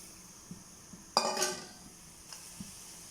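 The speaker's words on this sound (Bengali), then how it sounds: "পানিটা ফুটে গেছে, কেটে রাখা সিম দিয়ে দিব" Chopped flat beans drop into salted, turmeric-tinted boiling water in a pan, giving a sudden clattering splash that fades over about half a second, with a few faint metallic taps before and after in a quiet kitchen.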